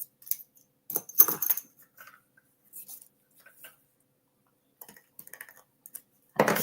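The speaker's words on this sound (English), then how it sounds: "I'm actually going to take my paper snips and just do a little snipperoo there" Paper snips cut card stock for a handmade greeting card, giving a handful of short, crisp snips and clicks with quiet pauses between them, close by and with no talking.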